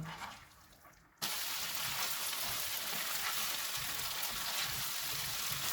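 Butter garlic chicken with fresh coriander frying in a pan over medium-low heat, a steady dense sizzle that starts abruptly after a quiet moment and holds loud and even to the end, with no talk.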